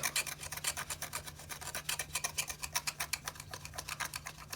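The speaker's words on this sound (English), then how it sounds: "I'm just gonna use this to like scrub on top" A small eyelash tool quickly scrubs over the painted surface of a CD, making fast, even, faint scratching strokes close by without any talk.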